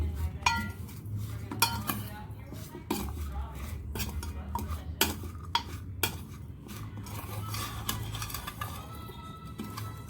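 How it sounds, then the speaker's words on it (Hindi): A spoon stirs spices, asafoetida and flour in a bowl, knocking and clinking against the sides in a steady rhythm of close, sharp taps with soft scraping between them. "सबसे पहले इन सबको अच्छे से मिक्स कर देंगे।"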